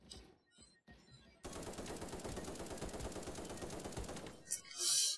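Rapid automatic gunfire in the browser shooter Krunker.io: a loud, sustained stream of shots for about three seconds after a few short opening bursts, ending in a sharp crack and a bright burst, with no talking.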